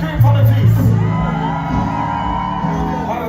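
A crowd of women screams at the Summer Jam Festival during a live dancehall performance, a loud, sustained wash of shrieks and whoops riding over booming music.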